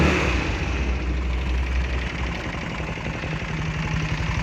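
An AXXO Viper 180cc scooter engine idles steadily at close range, giving a continuous, even putter that stays loud for the whole stretch with no talking.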